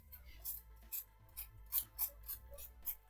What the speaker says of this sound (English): I've got one more that I haven't peeled, just to show you how I like to peel potatoes